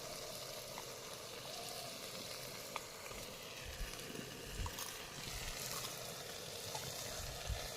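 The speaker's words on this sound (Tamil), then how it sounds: "இப்போ நல்லா வதக்கிக்கலாம்." Steady soft sizzling of vegetables sautéing in a pan for turkey berry kuzhambu, with occasional faint clinks and scraping stirs, quiet and continuous.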